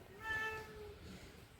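A single short, faint cat meow rises and fades against a quiet mountainside background.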